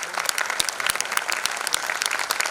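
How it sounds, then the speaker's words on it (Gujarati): Audience clapping for performing artists at a cultural felicitation event in Surat, a steady, dense burst of applause from a crowd, fairly near and even in level throughout. "જોરદાર તાળીથી વધાવી લઈએ"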